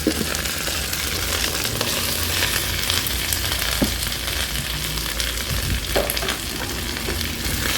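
Vegetables are stir-fried in a Kadonio multipurpose pan, making a loud, dense, continuous sizzle with scraping stirs and faint knocks close by and no one talking.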